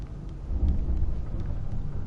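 A low, rumbling roll of thunder from a storm in the video game Alan Wake swells and lingers for a couple of seconds, deep and muffled, with no talking.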